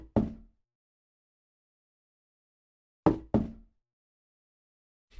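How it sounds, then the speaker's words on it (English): Collision impacts from a Wwise-driven Unreal Engine 4 game: a short, dull knock-like hit, silence, then two quick hits close together, and the start of a fourth at the end, each clean and isolated. "The first collision sound"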